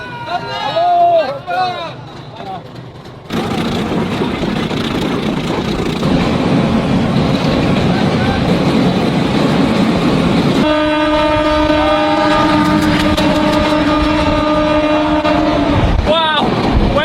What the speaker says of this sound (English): When that other train came, that was almost like goosebump feeling.